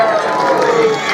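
A crowd at a Balinese bondres performance during an arts appreciation week cheers and shouts in a brief burst, a busy wash of many voices close together.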